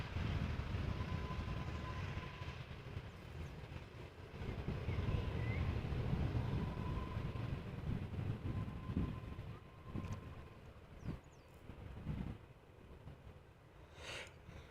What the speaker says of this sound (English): another Corendon 737. Touching down on Dutch soil.